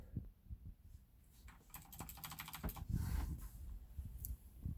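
Keys clack on a computer keyboard in quick, uneven bursts of close, sharp taps, with a few heavier thumps mixed in and no talking.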